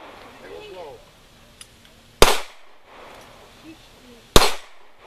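A small gun fired at a target outdoors, two sharp cracks about two seconds apart, each with a short decaying tail, with faint voices in the background between them.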